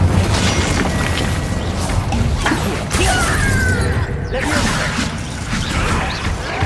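Incendio fire spell cast repeatedly during a fight in Hogwarts Legacy, with whooshing flame bursts, crashes and booms layered over a constant loud battle din.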